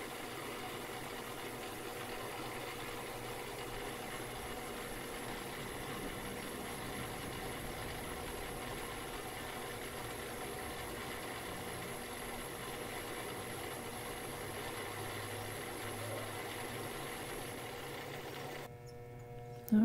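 Metal lathe running a slow-feed, high-RPM finishing pass while making a locking hinge, a steady, faint, even machine hum and whir lasting unchanged until a brief disturbance at the very end.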